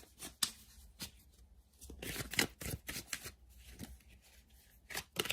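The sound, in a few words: laying out tarot cards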